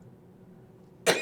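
A single sharp cough breaks out close to the microphone at the very end, after a stretch of quiet room tone.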